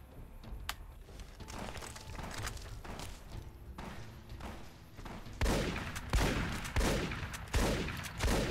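Hunting shotgun fire in the video game Fallout New Vegas: heavy booming blasts that get louder and more frequent in the second half, several shots spaced about a second apart over faint background thuds.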